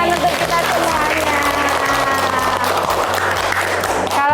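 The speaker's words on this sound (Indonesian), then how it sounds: "Oke, tepuk tangan untuk kita semuanya." Clapping from a seminar audience at a university teaching session, a continuous dense burst of hands heard up close for about four seconds, with a sustained low tone and a voice mixed in beneath it.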